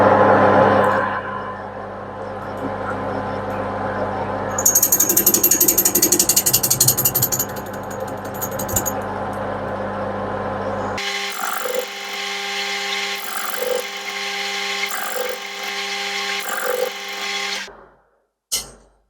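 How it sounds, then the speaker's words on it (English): Metal lathe turning a front cylinder cover, running fairly fast: a steady mechanical whir with rhythmic ratcheting and gear noise, loud and close, a brief rise in pitch midway, then the machine winds down and stops. "The lathe is no longer so out of balance, so I can run this a bit faster as well"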